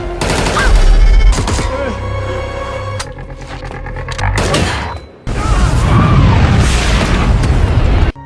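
Film action sequence with a rapid burst of gunfire and heavy booming explosions, loud and layered over a dramatic score, with brief pauses and abrupt cuts between blasts.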